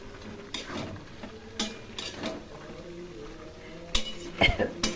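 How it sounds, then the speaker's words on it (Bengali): A spoon scrapes and clacks against a pan as a bori vegetable curry with green chillies is stirred, a few sharp irregular knocks rising toward the end over a quiet kitchen background. "এখন একটু নেড়ে চেড়ে নামিয়ে নেব।"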